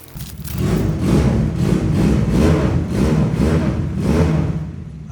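A BMW S1000 replica motorcycle engine runs up close on a cold day, loud and throaty, revved in a series of rhythmic pulses that rise and fall over a steady idle rumble.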